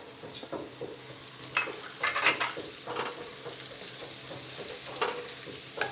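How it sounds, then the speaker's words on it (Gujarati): Chopped onion and garlic for Mehsana-style dungadiyu frying over a medium gas flame, a soft, steady sizzle broken by close, irregular scrapes and clatters of a spoon stirring the pan. "લસણ અને ડુંગળી ચડાવવામાં ઉતાવળ નહીં કરવાની, મીડિયમ ગેસ પર ધીરે ધીરે સરસ ચડે"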